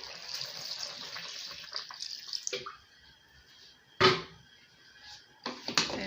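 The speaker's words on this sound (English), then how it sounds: "So I can add my water now." A cup of water pours and splashes briefly into a pot of chicken pepper soup, faint and close, with a few clinks and knocks of the pot or utensil around it.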